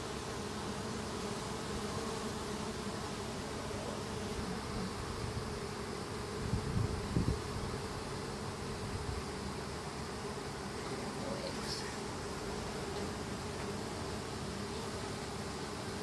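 A steady, dense hum of many honey bees buzzing close by around a hive, continuous and fairly quiet, with a few brief louder passes near the middle.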